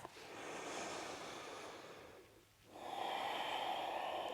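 A slow, deep breath taken during a yoga hip-opening practice, a long airy exhale that fades briefly to near silence before a fuller, steady inhale resumes, close and soft.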